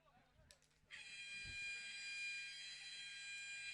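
A loud, steady electronic buzzer sounds at a men's rugby match in Jakarta between Uzbekistan and Bangladesh. It follows some faint crowd murmur and holds as a sustained, bright tone for almost three seconds.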